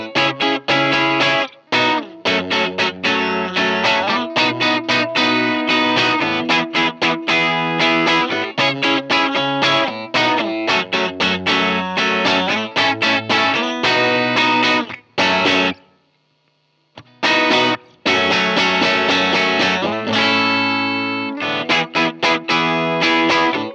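Distorted electric guitar playing parts, with effects and chorus, plays dense, steady and loud nearly throughout, with a brief near-silent pause midway.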